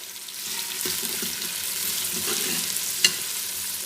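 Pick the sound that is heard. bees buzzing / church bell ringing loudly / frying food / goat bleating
frying food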